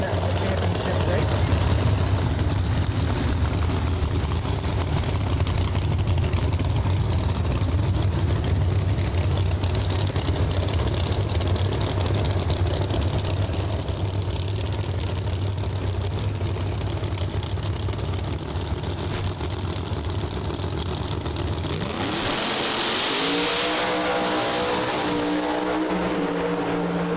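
Pro Charge Camaro and Nova drag cars roar down a Las Vegas strip in a loud sustained engine blast that abruptly cuts off, leaving fainter engine noise and crowd sound as a commentator talks over it.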